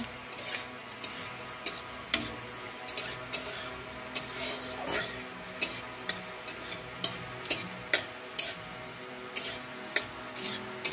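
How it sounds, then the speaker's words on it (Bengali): Cumin and black cumin seeds crackle and spit faintly in hot oil in a village kitchen, with sharp pops and ticks repeating irregularly over a soft sizzle, no voices. "তেল গরম হয়ে গেছে, দিতে পারেন জিরে টিরে, কালো জিরে"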